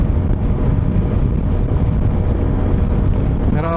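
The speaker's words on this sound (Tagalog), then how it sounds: "Lakas ng hangin." Strong wind on a motorcycle ride toward Baler via the expressways, a continuous loud rushing roar battering the microphone with no break, no voices over it.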